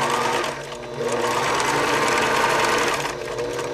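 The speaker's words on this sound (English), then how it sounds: "keep sewing just with the edge of the presser foot along the edge of the fabric" A sewing machine stitching along the edge of fabric for a handmade burp cloth, a loud steady motor whir with a brief slowdown near the start, running alone with no voice.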